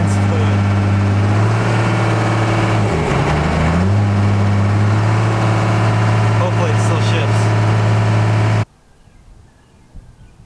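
First-gen Cummins diesel truck engine with twin turbos, worn and showing heavy blow-by, idles loud and steady with a deep low drone for about eight seconds, then cuts off abruptly, leaving near silence.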